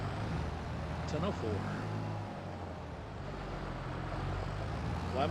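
Tractor engine in a farming video game, a steady low mechanical drone running continuously at an even level beneath occasional spoken commentary.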